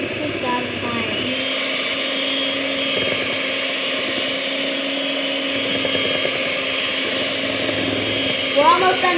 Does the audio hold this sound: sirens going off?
no